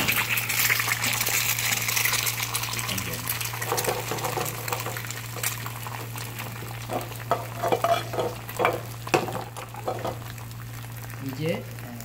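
Eggs frying in a pan while being cooked over hard for breakfast, giving a steady crackling sizzle with a constant low hum beneath and sharper pops and spatters toward the end.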